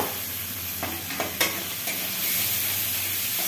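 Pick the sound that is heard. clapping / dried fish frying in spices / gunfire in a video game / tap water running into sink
dried fish frying in spices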